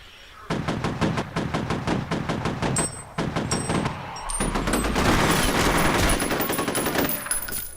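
Rapid automatic gunfire from the first-person shooter F.E.A.R., loud sustained bursts of evenly spaced shots, a brief pause, then more firing that blends into a dense roar of gunfire and impacts.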